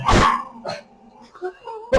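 Small dogs, one a tiny female of about a kilo and a half, let out a quick burst of close yips and short barks with whimpery whines between them, loud and busy over barely two seconds.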